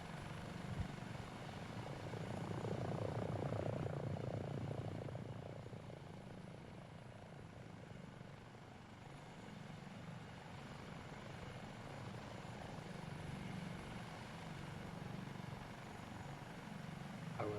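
A Dauphin helicopter flies in a flight simulator video game, its rotor and engine making a steady, unbroken drone that swells slightly early on and then holds level, with no talking.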